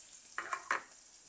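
Tamarind extract hits a sautéing fish curry in a clay pot, giving two short, quiet sizzling splashes a moment apart.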